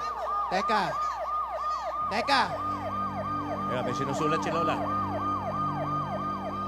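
A police siren wails, sweeping up and down in rapid repeating cycles throughout, loud and close, while people talk over it.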